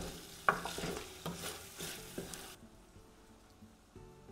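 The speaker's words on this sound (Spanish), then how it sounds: "La seguimos dorando hasta que este color rosa que tiene la carne haya desaparecido" Ground beef browns in a pan for a beef and rice soup, sizzling with spoon scrapes and clacks against the pan, then the frying drops away to quieter bubbling and occasional knocks.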